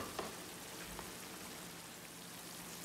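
Peri peri seasoned fish pieces frying in a pan, giving a steady, faint crackling sizzle with occasional small pops and no talking.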